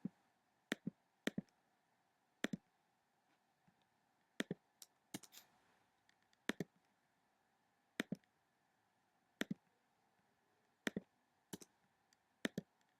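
Computer mouse clicks while working in a spreadsheet gradebook: a dozen or so sharp, close single and double clicks at irregular intervals against a quiet room, with no speech.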